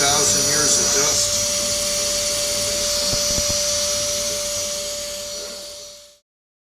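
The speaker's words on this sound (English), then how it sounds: "using my electronic canned air, clean out all this inside" An electric canned-air blower whirs steadily at close range while dust is blown out of the inside of an Epiphone 12-string guitar, a loud continuous hiss with a fixed whine that runs about six seconds before cutting off abruptly.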